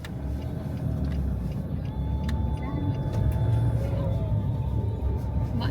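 A car driving through a small town's streets, giving a steady, close road rumble and engine hum with passing traffic noise, under faint talk.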